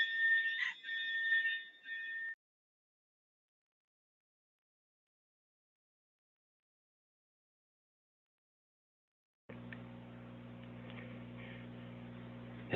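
An alarm beeps during a software training session: a steady, piercing electronic tone with harmonics lasts about two seconds, followed by silence and then a low droning hum with a higher buzzing layer.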